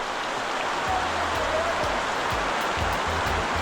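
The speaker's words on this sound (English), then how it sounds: "Yeah, not just a small rain, like super heavy." Heavy Caribbean rain in Saint Lucia pours in a dense, continuous hiss, heard from inside a restaurant, with low thuds and muffled sounds from nearby underneath the steady downpour.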